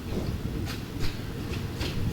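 A passenger train, Thai train 135 from Hua Lamphong toward Bang Sue in Bangkok, rumbles steadily along, with a low, continuous roar and faint rhythmic clicks from the wheels on the track.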